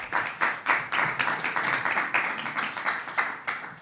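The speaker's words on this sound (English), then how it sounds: "let's give them a round of applause" Moderately faint applause follows a state governor's budget briefing: a room of listeners claps in a fairly even, rhythmic patter that stays steady before fading slightly.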